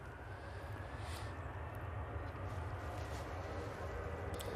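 An EasyJet airliner takes off at Manchester Airport, its engines producing a steady, distant jet roar that swells slightly as it climbs.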